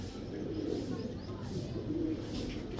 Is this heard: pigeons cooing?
yes